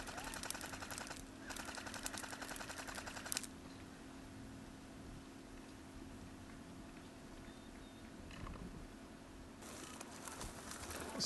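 An airsoft gun lays down cover fire in the distance on a windy field, two bursts of rapid mechanical rattling heard through steady wind noise.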